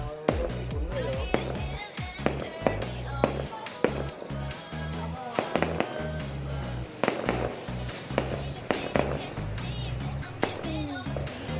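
New Year's Eve fireworks over highland Hoàng Su Phì, Hà Giang crack and pop in repeated sharp bursts at an irregular pace, steady and fairly close throughout.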